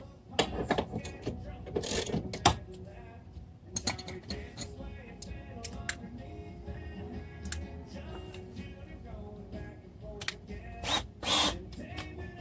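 A power tool works on the striker plates of a Ford Super Duty door, sounding in short, sharp bursts separated by pauses, with metallic clinks and rattles of parts in between. The sound is fairly close and no one is talking.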